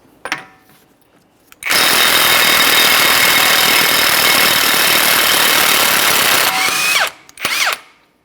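An impact power tool with a socket spins off the axle nut on a 2011-2020 Toyota Sienna front end, a loud, steady buzzing whir for about five seconds, close up, with brief clicks before and after.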